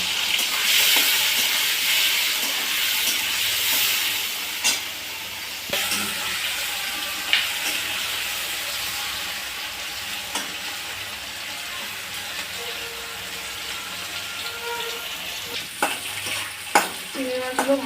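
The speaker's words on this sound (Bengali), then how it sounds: "এবার আমি চিংড়ি মাছটা ভেজে নেব।" Prawns fry in hot oil in a wok with a constant loud sizzle and hiss, broken by occasional clinks and scrapes of stirring utensils, with no talk.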